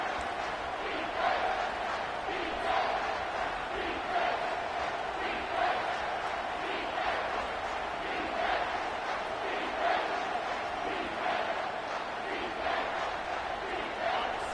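A stadium crowd in the NCAA 25 football video game roars steadily at a big third-down play, a dense sustained wash of noise running beneath a commentator's voice.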